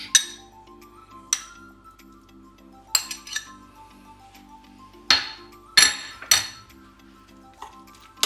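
A spoon clinks against a glass bowl while strained yogurt is mixed, giving about eight bright, irregularly spaced taps and rings over a faint background hum.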